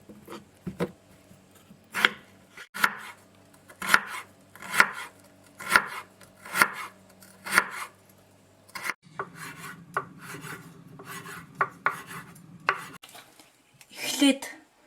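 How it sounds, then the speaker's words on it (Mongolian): A knife chops greens on a board in a quick series of sharp, close thuds, followed by a duller rubbing, scraping stretch and a final clatter, with no voices. "ногоонуудаа хэрчинэ"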